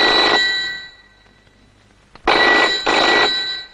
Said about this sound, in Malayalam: sir phone ബെല്ലടിച്ചു